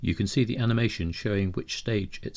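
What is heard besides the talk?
No everyday noises stand out.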